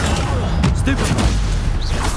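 Casting Stupefy stunning spells in Hogwarts Legacy brings sharp impact bursts and rumbling booms amid busy game combat effects, loud and close.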